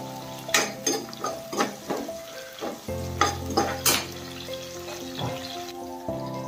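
Curry leaves frying in hot oil in a pan for chicken gravy: a run of sharp crackles and spatters with clanks of a utensil against the pan, close and fairly loud, over a low steady hum.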